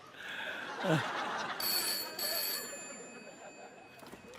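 A telephone rings over indoor background noise with people talking around it.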